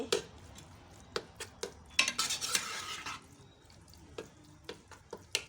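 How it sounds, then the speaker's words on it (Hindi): A spoon stirring keema in a pan, with repeated sharp scrapes and clinks in an uneven rhythm and a burst of sizzling in the middle, fairly quiet and close. "हिलाना है इसको चम्मच के साथ।"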